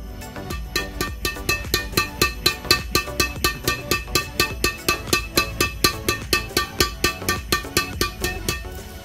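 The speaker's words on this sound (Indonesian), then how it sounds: "Dan ini bunyi hitting sound senarnya." Repeated close hits on a blue Apacs Commander 20 badminton racket strung with Haikwa Micro 66 at 28 lbs make a fast, regular run of sharp, bright string pings layered over constant background noise.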